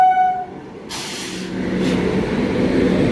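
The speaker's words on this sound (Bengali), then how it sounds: "আর এই ইমিউ লোকালটা এমনই লোকাল যে বর্ধমান ছাড়ার পর আর কোনো স্টেশনে না দাঁড়িয়ে সোজা হাওড়ায় চলে যায়।" EMU local train running on the Bardhaman–Howrah chord line, a tone cuts off abruptly, then a loud broadband hiss and rumble of the moving train builds steadily, with no talk.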